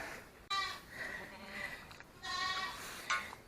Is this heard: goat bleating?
yes